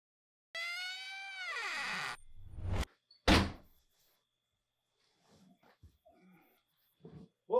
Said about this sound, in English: other door tracks, door noise tracks that I ended up acquiring from Motion Array